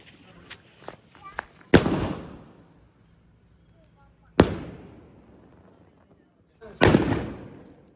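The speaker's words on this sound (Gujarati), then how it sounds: "બે સ્કાય શૂટ પાછા ફોડી નાખીએ" Three sharp fireworks bangs spaced a few seconds apart, each booming and trailing off, with fainter pops and crackles before the first.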